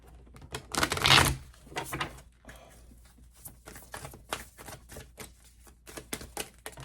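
Oracle cards being shuffled close by, a burst of riffling followed by a series of soft, irregular taps and flicks.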